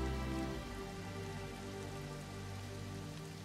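Rain pours in the WWII strategy game Strategic Mind Blitzkrieg, a constant even wash of patter beneath sustained low musical tones, no talking.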